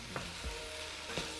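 Spices cook off in a pan for a chickpea and apricot tagine, a quiet steady sizzle with a couple of soft scrapes in a brief moment.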